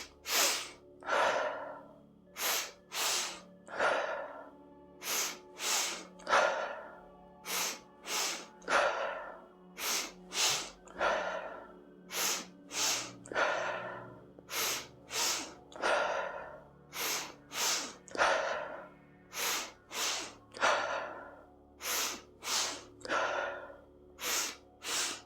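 Forceful rhythmic breathing in a yoga breathing exercise, sharp quick exhales repeated in steady bursts with short pauses between rounds, close and clear with no talking.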